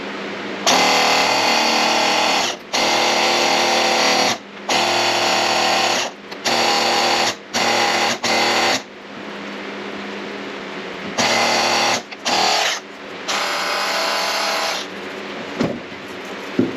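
Graco QuickShot handheld paint sprayer running on cleaning water, a loud steady buzzing motor in repeated bursts of a second or two, cutting off briefly between runs, alone with no talk.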